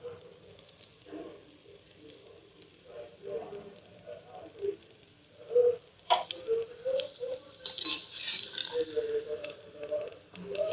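Oil and ghee sizzle on an adai dosa on a hot griddle, a soft crackling that grows louder and busier toward the end, with someone speaking over it.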